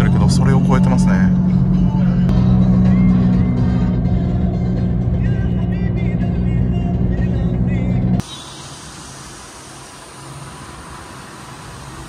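Car ride through chaotic Egyptian traffic, a steady interior road rumble with passing vehicle noise and a voice talking over it, the sound dropping to a quieter hiss near the end.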